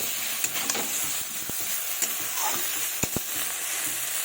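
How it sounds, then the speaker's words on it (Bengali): Masala for a bata fish curry with cauliflower, potato and tomato is stir-fried in a pan, giving a steady, close hissing sizzle broken by several crisp spatula knocks against the pan. "এভাবে এখন ভালোভাবে কষিয়ে নেব।"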